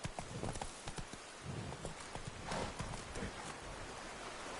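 A horse gallops in The Witcher 3: rapid, steady clip-clop hoofbeats, close and clear, over a soft rushing background.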